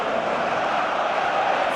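Stadium crowd in the football video game Pro Evolution Soccer 2016 giving a steady, dense roar of cheering, loud and sustained with no clear breaks.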